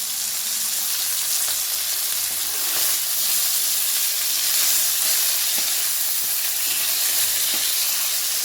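Potato greens picked from a rooftop garden fry in a pan, giving a steady, close sizzle and hiss with faint stirring clicks throughout and no talk.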